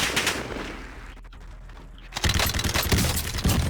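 Gunfire from a weapon in the video game Warzone, a rapid burst of loud cracking shots, then a lull, then another sustained volley, close and harsh with no speech.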